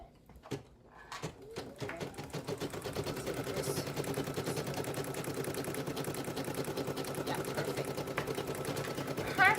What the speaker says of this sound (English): Now I'm going to embroider that.